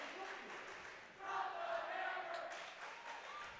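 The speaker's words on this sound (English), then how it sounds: "The crowd getting into it here." A high school volleyball crowd in a gym cheers and shouts in a sustained roar that swells after a moment, heard from the court at moderate loudness.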